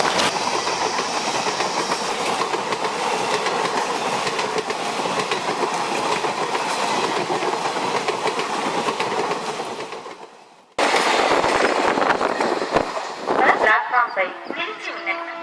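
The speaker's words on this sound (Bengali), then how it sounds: "ওই তো ট্রেন এসে গেছে" A train arrives at a station, its steady rumble and clickety-clack of wheels on rails filling the scene loudly before a brief cut, then resuming with squealing metallic tones near the end.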